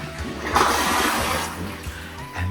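A smart toilet in a Marina Bay Sands hotel bathroom flushes with a close, loud rushing gurgle of water that swells and then tapers off within a few seconds.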